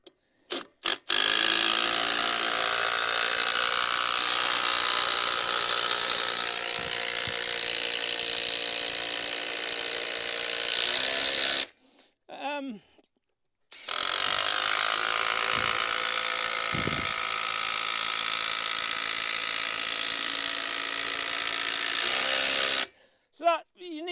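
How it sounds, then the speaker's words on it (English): A Makita DTD 171 impact driver driving screws into timber for a garden office build, two long, loud, continuous rattling hammering bursts, each ending abruptly, with a brief voice between them. "you need a good impact driver. This is a Makita DTD 171."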